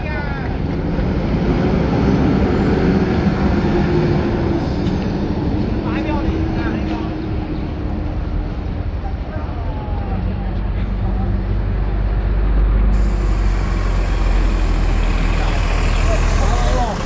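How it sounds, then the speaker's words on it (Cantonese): Citybus route 73S pulls away from the Ocean Park terminus, a steady, loud, low engine rumble mixed with wind buffeting on the microphone and faint voices of a crowd around it. "之後巴士離開海洋公園總站"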